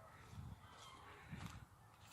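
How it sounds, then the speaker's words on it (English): Two low honking calls of geese, spaced about a second apart, faint and somewhat distant over soft outdoor background noise. "Geese."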